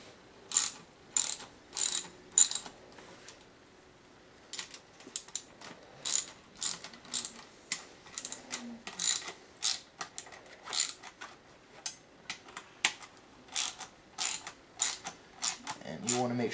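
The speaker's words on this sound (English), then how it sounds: "Now with most bolting, interchange as you tighten, that way you tighten it more evenly" A ratchet tightens the bolts on a sword, loud rapid clicking in repeated bursts separated by short pauses.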